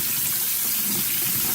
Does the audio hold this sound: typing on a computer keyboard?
no